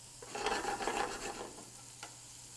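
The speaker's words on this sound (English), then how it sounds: "Keep moving them around. Help them break up a little bit with a wooden spoon." Leeks sautéing over high heat while a wooden spoon stirs and breaks them up, giving a steady close scraping and soft sizzling that rises and fades over a couple of seconds.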